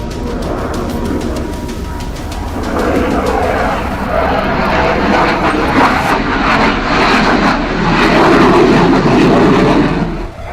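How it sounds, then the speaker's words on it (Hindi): A HAL Tejas light combat fighter jet flies past with a loud, sustained roar that swells and builds over about ten seconds, dense and continuous with a rising rumble toward the end. "देश में बना लाइट कॉम्बैट एयरक्राफ्ट तेजस छोटी लड़ाई के लिए घातक फाइटर जेट है।"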